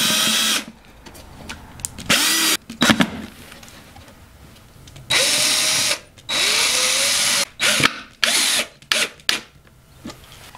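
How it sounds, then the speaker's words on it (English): A power drill drives drywall screws through drywall into plywood backing behind it, with several loud high-pitched bursts of whirring, each rising and stopping, separated by short pauses and handling noises. "you take a couple of drywall screws and secure the plywood in place."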